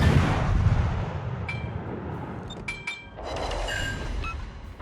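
Naval guns boom in the warship battle video game World of Warships, a heavy rumbling blast rolling off with a second deep report a few seconds later, with small clicks and beeps from the game interface and no talking.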